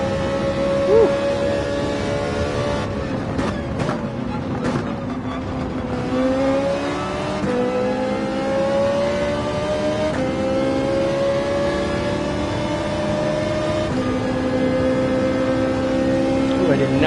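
Race car engine in Gran Turismo 7 at Willow Springs, a loud continuous drone climbing in pitch through the gears with brief drops at each shift, heard under a commentator's talk.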